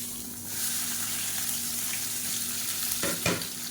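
Small shallots and big onions sautéing in a pan for a kuzhambu curry, a steady close sizzle with a brief stirring scrape near the end, no talk.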